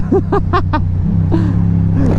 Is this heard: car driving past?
yes